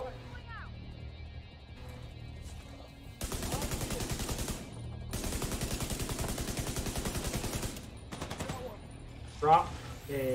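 Sustained automatic gunfire from a grenadier in The Division 2, two long rapid bursts of rattling shots separated by a brief pause, moderately loud, with voices talking around it.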